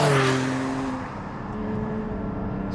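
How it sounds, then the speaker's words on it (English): The engine of a Porsche 718 Cayman GT4 is heard from inside the cabin with the windows up, the intake roar loud and rising at first, then easing into a steady lower drone as the car drives on. "Listen to that intake."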